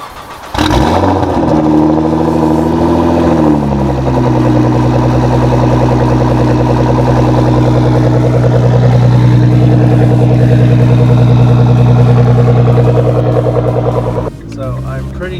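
A Nissan GT-R running full bolt-ons on E85 fires up from cold with a sharp crank and catch, then settles into a loud, droning high idle with a prominent exhaust tone that sags slightly near the end.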